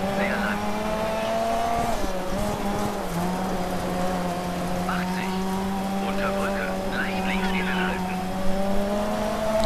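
A rally car in DiRT 3 drives with a steady engine drone and gravelly tire noise throughout, the pitch dipping briefly as it shifts, while someone talks over it.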